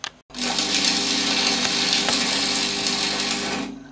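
A sewing machine stitches an extra inner seam on corner bench upholstery, running in one fast, continuous, loud mechanical whir for several seconds after a brief start.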